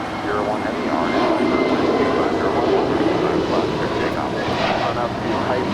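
A Polar Air Cargo Boeing 747 rolls for takeoff at LAX, its jet engines a loud, steady roar that swells slightly and holds for several seconds, with faint voices mixed in.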